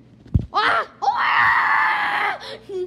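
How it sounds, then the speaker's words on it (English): A person lets out a short cry and then a long, loud, sustained scream up close, trailing off at the end. "Stop screaming."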